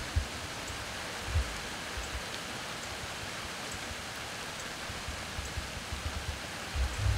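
Steady, soft hiss of rain falling in the woods, continuous and even with no voices.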